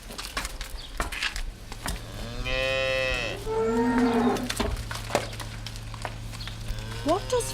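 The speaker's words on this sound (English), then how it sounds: "Suddenly, Finn sees a cow and calf coming out of the shed." A cow and her calf moo on a farm near a shed, with two long, loud, low lowing calls back to back mid-way, and a narrator talks before and after them.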